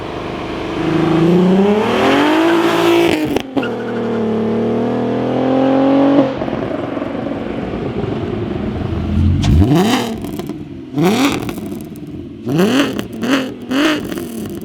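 Volkswagen Scirocco engine revving with a newly installed exhaust: a sustained rising and falling rev at first, then several sharp, loud blips toward the end, close up with no talking.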